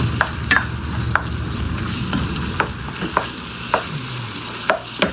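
Fatty hamburger meat frying in a pan for an enchilada casserole, with a steady close sizzle and crackle broken by repeated scraping stirs at irregular intervals, and no voices.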